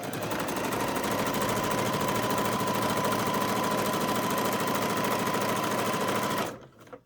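A sewing machine runs continuously at a fast, even whir as it stitches a seam along the presser foot, loud and close, stopping abruptly near the end.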